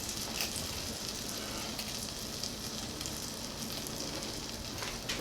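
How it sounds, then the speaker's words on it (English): Butter and oil sizzling in a pan on low heat for a corn chowder, a steady, even crackling hiss that holds for several seconds, close and alone with no talking. "I have this pan on low just so I can get the butter melted, and of course butter does burn, so I'm going to get some oil"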